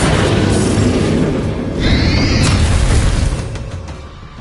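A Confringo fire spell bursts in Hogwarts Legacy combat, a loud booming blast with a crackling tail that swells near the two-second mark, then fades over several seconds with no voices.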